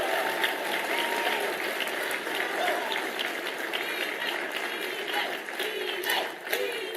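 A pro-Trump audience applauds a pro free-trade speech in a hall, steady clapping with crowd noise throughout, some voices mixed in, fairly even in loudness across the whole stretch.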